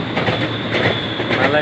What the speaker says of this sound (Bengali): দেখেন কি গতিতে চলতেছে